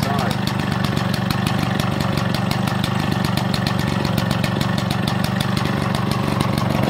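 A classic Victa lawn mower engine idling close by, a steady, even two-stroke putter that runs without change from start to end.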